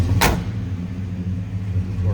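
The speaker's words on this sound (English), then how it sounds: "Door closes nicely." Door of a 1987 Chevrolet K20 pickup slamming shut once, a sharp close thud at the start, followed by the steady low idle of the 5.7 liter engine.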